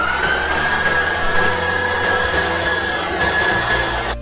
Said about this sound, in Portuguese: aqui a gente liga a batedeira e eu vou começar a colocar essas gemas